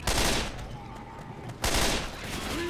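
Burst-fire gunshots from a weapon in the Left 4 Dead 2 video game: two loud, dense bursts of rapid shots separated by a brief lull, close and harsh.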